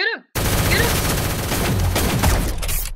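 Dense, continuous gunfire from a shooting video game pairing shotguns against snipers, loud and close. A voice is briefly heard at the start before the rapid volleys take over.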